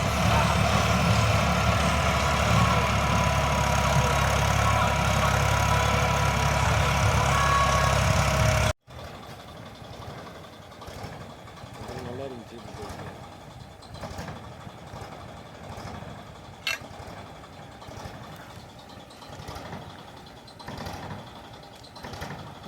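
A farm vehicle's engine runs loud and steady close by while ploughing a coconut grove, then cuts to a much quieter outdoor scene with faint engine rumble and no speech.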